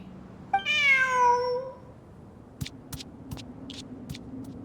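A cat in Genshin Impact gives one clear, drawn-out meow, followed by faint light clicks and taps in an otherwise quiet scene.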